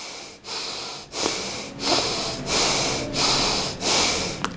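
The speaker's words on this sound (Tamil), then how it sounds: "ஒரு ஃபைவ் டைம்ஸ் நல்ல மூச்சை உள்ளெழுத்து மூச்சை வெளியே விடுங்க" Deep breathing in and out during a mudra exercise, about seven slow, close, hissing breaths in a steady rhythm, heard alone without talk.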